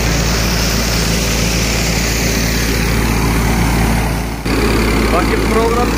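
A threshing machine runs at Mukandgarh with a loud, steady, droning roar, one short dip, then full power again, while people talk nearby.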